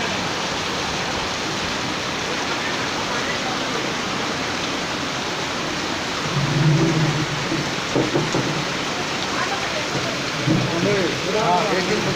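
Heavy monsoon rain pours steadily in Bangalore, a dense loud hiss throughout, with low thunder rumbling in the second half while people speak faintly beneath it.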